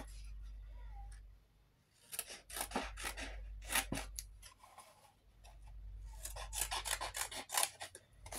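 Close, rasping cuts through craft material for a rectangular four-drawer box, several scratchy scissor-like strokes in uneven bursts over a low hum, with a pause before a final run of rapid cutting.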